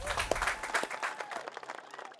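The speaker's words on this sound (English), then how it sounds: "let's give them a great big round of applause" Applause from an audience at a public event honoring the engineers and union workers, a brief busy patter of clapping heard at a distance, with some voices mixed in.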